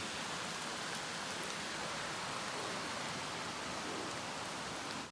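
A flowing forest stream at Lat Yai is being crossed, giving a steady, close rush of water that is even and continuous until it cuts off at the end, with no voices.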